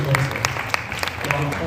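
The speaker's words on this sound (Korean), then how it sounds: "박수." Applause from a youth and young-adult congregation at a church summer retreat, a short burst of clapping at moderate volume with speech around it.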